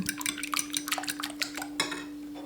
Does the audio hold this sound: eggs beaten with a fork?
yes